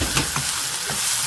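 Sliced onion frying in a pan, a loud continuous sizzle close by with a couple of stirring scrapes near the start, no talking.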